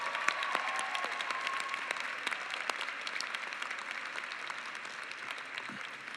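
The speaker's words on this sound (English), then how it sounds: "Let's give our student speakers another round of applause." An audience at the Lesley University 2019 commencement morning ceremony applauds student speakers, a dense, even wash of many hands clapping at moderate distance that holds steady and eases off slightly toward the end.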